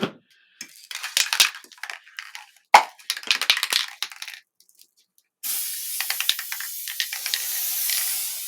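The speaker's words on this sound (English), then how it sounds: "then I'm going to spray it again with the adhesive" Scattered clicks and rattling handling noises give way to a steady, hissing spray from an aerosol can of adhesive lasting several seconds.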